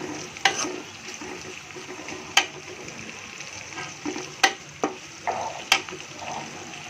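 Onions sizzling in a pan for a Bengali roast, a low steady frying hiss broken by several sharp clinks and scrapes of a utensil stirring against the pan, nearby and fairly quiet.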